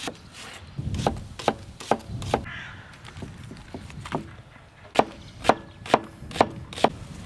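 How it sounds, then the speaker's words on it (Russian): A knife chops onions on a wooden board for an Azerbaijani-style veal dish, with sharp, evenly spaced strikes in short bursts, close and clear, and no talking. "Друзья, лук нарезал."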